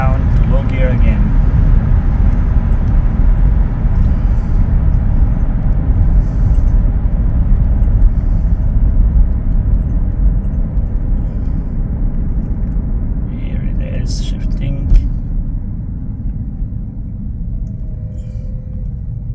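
A BMW electric conversion car pulls hard uphill in high gear under heavy throttle, giving a steady low rumble of road and drivetrain noise throughout with no engine note, and a brief knock near the end.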